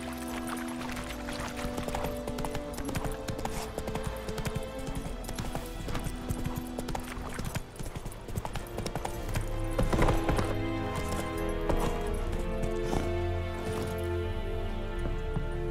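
In The Witcher 3: Wild Hunt, Roach the horse gallops in a steady, continuous run of hoofbeats over a game soundtrack, with the pace holding even throughout.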